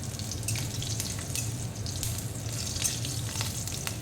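Asafoetida and slit green chillies frying in hot oil for a potato and pumpkin curry, giving a steady, close sizzle with a low, even hiss and occasional crackles throughout, with no talking.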